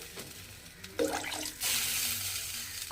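Water poured from a bowl into a pan of cooking potatoes for a Bengali eggplant curry, a short splash followed by a steady near rushing pour that runs to the end.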